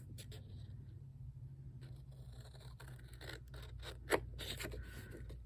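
Scissors cutting a sheet of paper for a journal page, heard as several faint, short snips and rustles close by over a quiet background hum.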